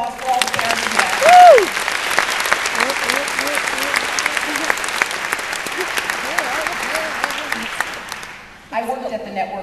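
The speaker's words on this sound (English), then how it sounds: "Again, a big round of applause for all the parents" Commencement crowd applause at WVU for parents, broad and sustained with cheers and whoops rising over it, fading out near the end before a brief burst of noise.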